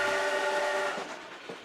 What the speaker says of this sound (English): This train carries not sugarcane,